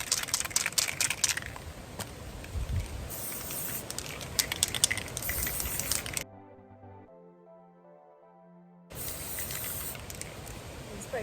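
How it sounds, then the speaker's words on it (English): Continuous hissing of a spray can, fairly close and steady, broken by a short quiet gap with faint tones before the spraying hiss resumes. "Spray my boot as well."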